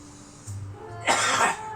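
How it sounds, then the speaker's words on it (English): A single short cough close to the microphone, preceded by a low hum, with no speech. "So I had a bit of a cough there."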